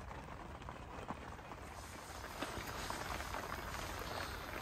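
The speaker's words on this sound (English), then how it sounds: "So we've got continuous rain now" Continuous light rain, a steady drizzle falling outdoors at a fishing lake, forms a fine, even hiss with scattered soft patters throughout, moderately faint and unbroken.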